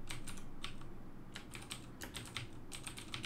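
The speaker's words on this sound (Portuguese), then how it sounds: "Eu vou digitar aqui então" Quick keystrokes clatter on a computer keyboard in short irregular bursts, close and fairly quiet, with no voices.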